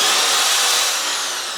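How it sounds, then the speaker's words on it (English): A fast-spinning power drill with a poor chuck bores a 10mm hole in a workshop fabrication station, giving a steady, loud whirring whine that fades slightly toward the end, with no talking. "Really don't like this drill. Chuck's rubbish, the drill's too fast"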